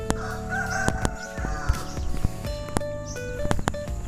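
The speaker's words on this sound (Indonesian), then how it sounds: "Ada selamat datang para ayam ya." Roosters crow repeatedly among a flock of chickens at a village coffee farm, with sharp clucks and calls in the foreground and other crowing further off.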